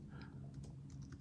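Faint, quick keystrokes on a computer keyboard, a few soft clicks in a short burst over a low hum.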